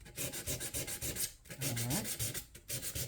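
Guitar frets are worked with 320-grit sandpaper in quick, rhythmic back-and-forth rubbing strokes, close and fairly quiet, with a few brief pauses.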